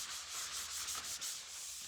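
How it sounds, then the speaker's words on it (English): A medium, fairly rough sanding block rubs across a thrifted vintage tray in short, close, soft scraping strokes, quiet and without talk. "And then I have a sanding block and a sander."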